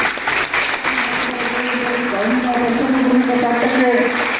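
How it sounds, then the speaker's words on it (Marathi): Audience clapping steadily to welcome a student honoured at a prize ceremony for high-scoring tenth-grade pupils, a continuous dense patter of applause with some voices murmuring beneath it. "टाळ्या वाजवून स्वागत करायचं."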